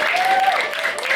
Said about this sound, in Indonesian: tepuk tangan untuk Ustadz Tival